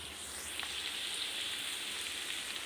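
Onions and pumpkin pieces fry in a pan for an Assamese duck curry, giving a steady, close, hissing sizzle throughout with no one speaking.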